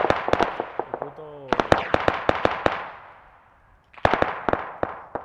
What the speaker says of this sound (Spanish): Tiros. Escucho tiros.